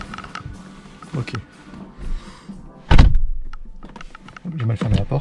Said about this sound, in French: J'ai mal fermé la porte.